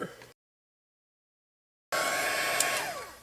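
A heat tool blows over iridescent gold Tattered Angels glam spray on a handmade journal page: a brief burst at the start, a pause of silence, then a steady, close, even whoosh for over a second.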